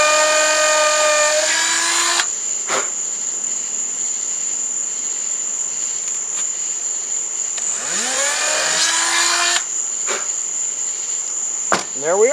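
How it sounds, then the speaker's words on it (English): Dremel rotary tool cutting through plywood, basswood and a hinge on an RC airliner model build, a shrill high whine with a steady tone, rising in two close bursts, over a faint buzz between them. "You'll know by feel when the Dremel drops down that it's actually through the plywood"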